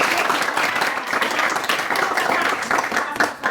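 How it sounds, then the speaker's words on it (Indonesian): A class at an open class training session breaks into steady, dense applause, many hands clapping together close by for several seconds. "kasih tepuk tangan aplaus untuk memberikan semangat"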